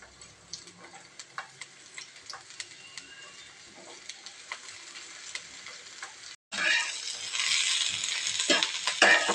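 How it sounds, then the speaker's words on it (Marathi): Ground masala paste with onion roasting in a pan, a soft crackling sizzle with stirring scrapes that turns abruptly louder and denser after a brief gap, close and steady with no talking. "सर्व काही वाटण छान असं भाजून घेणार आहोत"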